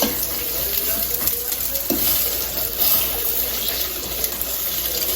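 An eggplant and egg omelette frying in a pan on the stove gives off a steady, close, wet sizzle that holds at an even level throughout, with soft crackles scattered through it.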